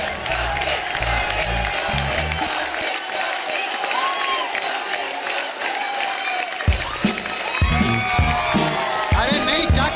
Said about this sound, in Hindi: एक बार जोरदार ताली हमारे भज्जी बाजी और गीता के लिए